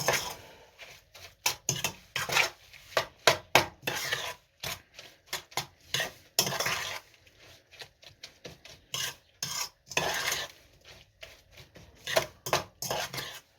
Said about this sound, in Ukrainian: Так, і розмішаю поки.